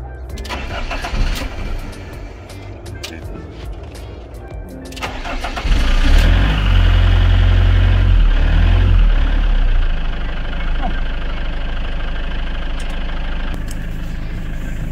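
A camper's engine cranks and catches, then settles into a steady, loud low rumble of idling, with some noise and movement over it at the start.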